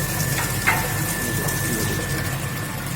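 Steady broadband wash of water running through a triangular notch channel in a hydraulics lab, a continuous near rush with a faint constant high whine and a couple of brief splashy bursts.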